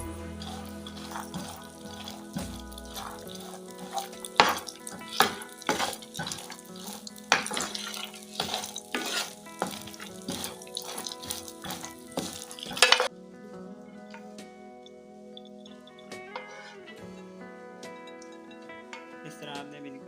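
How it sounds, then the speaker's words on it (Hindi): Raisins fry lightly in ghee for sheer khurma, the hot fat crackling steadily while a spoon clinks and scrapes the pan in quick strokes; the sizzle softens to a quieter hiss near the end. "उसको भी हल्का सा फ्राई कर लेते हैं।"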